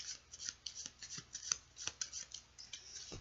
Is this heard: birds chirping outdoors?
no